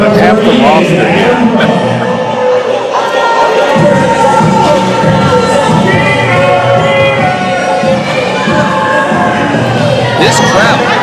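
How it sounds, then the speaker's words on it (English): A crowd at a TIW professional wrestling show cheers and shouts loudly and continuously, with overlapping voices, whoops and yells filling the arena at close range. "This crowd not happy to see Adam Stone or Denim"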